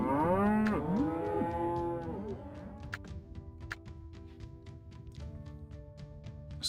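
Cattle lowing in a business-simulation video game, a few long drawn-out moos at the start that fade into a quieter backdrop of light clicks and soft tonal game sounds.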